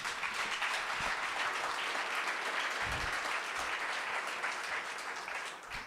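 A crowd at a send-off gathering breaks into sustained applause, a dense, even patter of many hands clapping from a distance that continues steadily and tapers slightly at the end.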